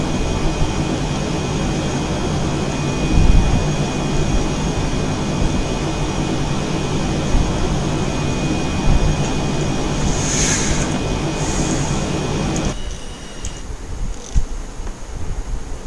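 A jet aircraft engine drones steadily in a flight simulator game, a continuous loud roar with a thin high whine that drops away near the end.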